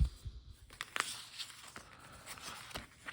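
A deck of Kem plastic playing cards is shuffled with quick crisp riffles and flicks, faint and close, in short bursts with no talking.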